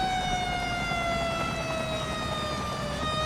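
Fire engine sirens in the city-building game Cities Skylines wail steadily and loudly in a continuous rising and falling tone, with no talking over them.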